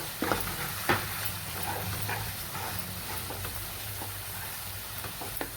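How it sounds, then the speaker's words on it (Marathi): Spice masala for a soybean gravy fries in hot oil in a pan, a steady close sizzle broken by sharp stirring scrapes and clinks. "चला आता त्याला थोडंसं मस्त तळून घ्यायचा मसाला।"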